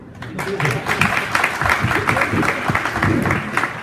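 Audience at an industry exhibition event in Pragati applauding, a continuous crowd clapping at fairly loud level with voices mixed into it throughout.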